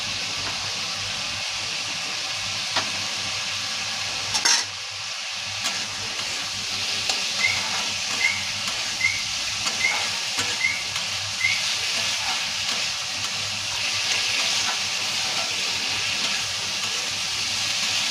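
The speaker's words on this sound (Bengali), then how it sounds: "মশলাটা খুব ভালো করে ভাজা হয়ে গেছে আমার ভেজে দেখো তেল ছেড়ে দিয়েছে" Spice masala frying in oil in a pan while a cook stirs it, heard as a steady broad hiss and sizzle with small periodic scraping clicks from stirring, fairly loud and close, with no talking.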